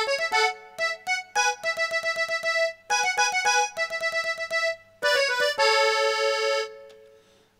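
A MIDI accordion part played through a VST plugin, a short melodic phrase of detached notes followed by held chords, clean and alone with no talking.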